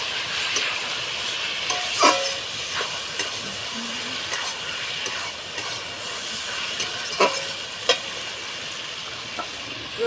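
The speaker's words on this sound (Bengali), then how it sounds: "ঢাকাটা থেকে দেখি আর তরকারিটা ভাজা ভাজা হয়ে গেছে" Ridge gourd and potato curry fries in a pan, giving a steady hiss and sizzle with occasional scrapes and light knocks of a spoon against the pan, close and continuous, with no voices.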